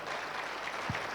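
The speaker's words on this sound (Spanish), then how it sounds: "Dale un aplauso a Jesucristo, el Hijo de Dios." Applause from a church congregation during a Spanish-language sermon, a steady dense wash of clapping across the whole short moment with a brief low thump near the end.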